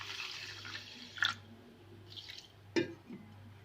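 Water poured from a cup into a frying pan of sugar for halwa, a soft trickle with two short splashy bursts, close and quiet.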